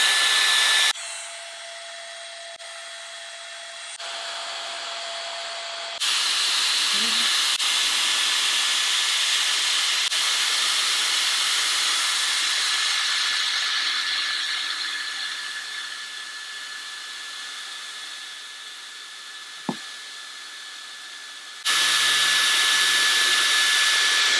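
A Dyson Airstrait hair straightener switches on and blows air on full airflow at medium heat, a steady loud whooshing hiss that shifts level a few times, with a brief click near the end before the blowing resumes.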